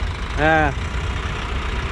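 A JAC 2.4-ton truck with a 3.7 m cargo box idles quietly with a low, smooth, steady engine rumble, while a voice briefly speaks over it near the start.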